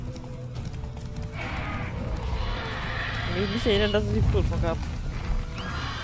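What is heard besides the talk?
horse whinnying and hooves in video game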